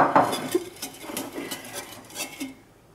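Caramel egg custard mixture being stirred in a pan with a utensil, giving a run of soft scraping and light clinking strokes that ease off toward the end.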